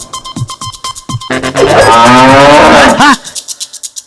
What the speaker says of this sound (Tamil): எஸ்கேப் ஆன மாடு